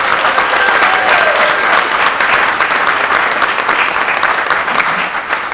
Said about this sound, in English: Y'all give Bruce a round of applause.